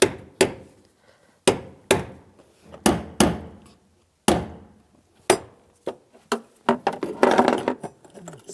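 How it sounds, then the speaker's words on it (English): A hammer taps a brass punch against the lock ring of a fuel pump module on a 2013-2016 Dodge Dart 2.4L, giving a series of sharp, separate metallic knocks at uneven intervals, closer together toward the end. "you can use a brass punch and a hammer"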